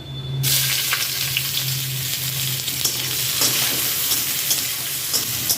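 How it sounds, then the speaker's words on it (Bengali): Chopped onion drops into a hot pan with black cumin and oil, bursting into a loud, steady sizzle while a utensil stirs it, the frying crackle continuing close up with no voices. "এবার এতে অ্যাড করছি আমি যে পেঁয়াজটা কুচিয়ে রেখেছিলাম সেটা।"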